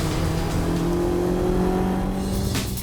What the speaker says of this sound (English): Here goes a motorcycle that's going to be 100 miles an hour.